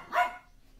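A dog gives a single short, sharp bark close by, followed by near silence.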